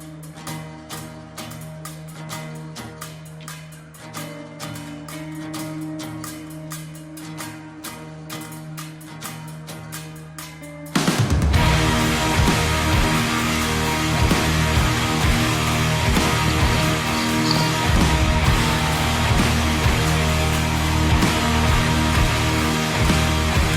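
A sparse, clean guitar figure plays, then a loud, distorted heavy riff crashes in and drives steadily to the end.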